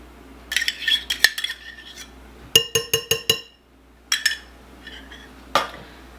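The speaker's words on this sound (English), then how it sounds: "I'm just going to go ahead and give this a little mix." A utensil scrapes and clinks against a dish while cheesy rice casserole ingredients are mixed with milk and sour cream, giving irregular clusters of sharp taps and a quick rhythmic run of knocks in a quiet kitchen.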